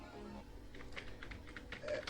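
Soft, quick clicks from typing on a computer keyboard come in a short run of keystrokes, fairly faint against a quiet room background.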